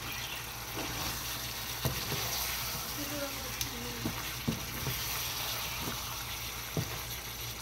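Beef fries in a pot during a kala bhuna cook, with a continuous nearby sizzle under scattered scraping knocks as it gets stirred now and then.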